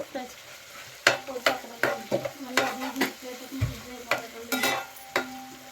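Ginger paste sizzling in hot oil while a spoon stirs it in a pan for chicken biryani, with repeated scraping strokes over a steady close frying hiss.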